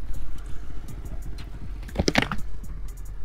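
A 1984 Honda CB125T twin motorcycle idling steadily at close range, a low even putter with a brief burst of clinking and rattling partway through.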